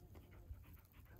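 A hunting flushing dog pants rapidly and steadily up close after an opening-day public-land pheasant hunt, the quick breaths forming a continuous rhythmic huffing over low outdoor rumble.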